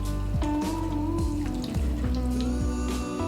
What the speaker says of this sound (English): We're just gonna pour it in there.